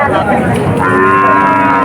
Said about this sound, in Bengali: ডকের বাছুর আপনার এটা ডকের বাছুর খুব সুন্দর